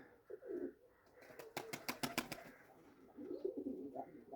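Pigeons cooing around a dovecote of flying pigeons, soft low throaty coos near the start and end, with a quick burst of sharp flapping or clattering in the middle.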